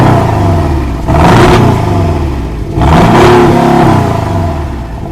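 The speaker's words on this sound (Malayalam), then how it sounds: "ഇതിന്റെ എക്സോസ്റ്റ് ആണ് നമ്മളിപ്പോ കേട്ടത്, കെയ്മാൻ 718." A Porsche Cayman 718's exhaust being revved: two loud, close blips that swell and fall back to a rough idle, with no voices.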